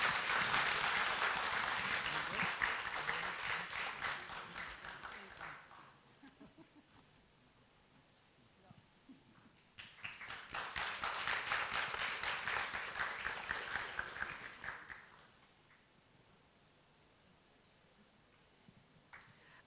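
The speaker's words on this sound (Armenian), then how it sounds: "կարող ենք բուրըն ծափահարել այս կարևոր նախաձեռնության համար" Two bursts of applause follow the signing of a three-party memorandum of cooperation at a formal ceremony, the first clapping fading by about five seconds and a second round swelling after a quiet pause, with no talk over it.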